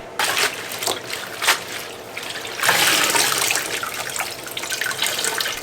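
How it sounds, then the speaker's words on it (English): Ai Cao young herb shoots rinsed under running tap water, a loud continuous splashing gush with brief surges and shifts as the shoots are moved about in a bowl. "Now give the Ai Cao young shoot a good rinse."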